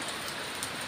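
Steady rain falling in a home courtyard on a Sunday, an even close hiss of drops over the whole moment with no voices.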